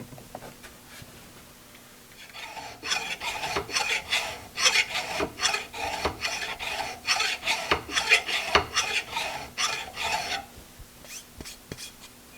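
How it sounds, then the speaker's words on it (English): A file rasps across hardened five-minute epoxy on a quick-lock vise, a run of rhythmic close strokes, loud and regular for about eight seconds between quieter stretches. "then try filing it off, see what happens"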